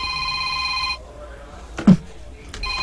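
A cellphone rings nearby with a steady, bright electronic ringtone for about a second, then cuts off, followed by faint room noise and a brief thump.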